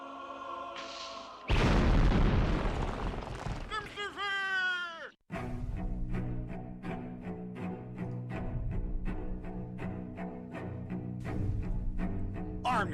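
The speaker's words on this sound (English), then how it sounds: "Brother Maynard, bring up the holy hand grenade." A holy hand grenade explodes in a film scene, a sudden loud booming blast about a second and a half in, followed by falling whistling tones and then a sustained, sung or musical passage with voices.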